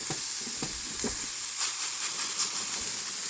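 Precooked food heats through in a frying pan with a steady, close sizzle and hiss, broken by a few soft stirring scrapes.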